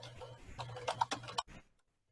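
Keys on a computer keyboard are struck in a quick run of soft, close taps while a web address is typed, ending in quiet after about a second and a half.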